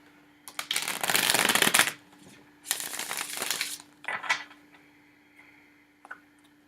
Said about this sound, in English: We'll take a moment to shuffle through the cards and to ground ourselves.